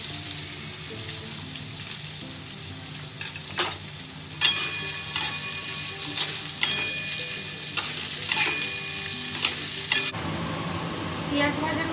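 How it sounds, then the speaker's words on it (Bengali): Sliced onions hit hot white oil in a wok, crackling and sizzling steadily with brief stirring clatters, close and fairly loud throughout, then the frying settles into a denser, rougher hiss near the end. "এবার কড়াই আমি পেঁয়াজটা দিয়ে দিলাম।"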